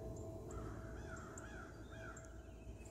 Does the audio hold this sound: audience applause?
no